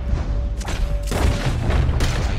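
Gunfire in a shooting video game, with booming shots landing around 0.6, 1.1 and 2.0 seconds over a busy, continuous game soundscape, loud and close.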